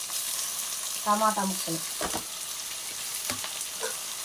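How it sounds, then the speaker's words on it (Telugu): Tomato pieces being stirred into a frying pan for a tomato and okra pulusu, a steady close sizzle with brief scraping and clinking of the spoon against the pan, no voices. "టమాటా వేసాక ఇలా కలుపుకోవాలి బాగా."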